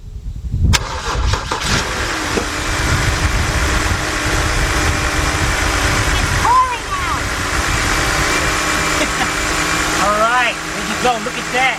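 A 2010 BMW 528i with its 3.0 engine cranks over and catches, then settles into a steady idle that runs loud and close throughout, with people talking over it.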